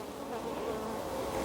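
Young honeybees packed into a queenless starter hive with no brood, a dense, continuous close buzzing hum with no other sounds over it.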